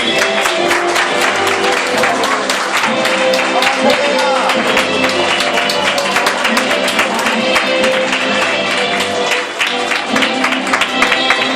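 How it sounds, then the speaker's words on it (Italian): Guests at an Italian wedding reception break into loud, sustained applause for the bride and groom, dense clapping mixed with crowd noise that holds steady throughout. "Adesso potete applaudire gli sposi!"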